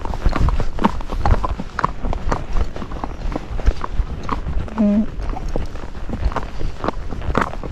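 A Missouri Fox Trotter horse walks toward home with a steady, even clip-clop of hooves on the ground, heard close beneath a rider's ongoing talk.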